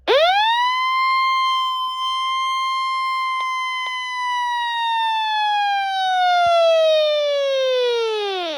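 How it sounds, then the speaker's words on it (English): A Midland 74-109 weather radio sounds its siren test: one loud, steady electronic wail holds for about eight seconds, then slides downward in pitch at the end, with no voices. "to test the siren, you just hold the test button"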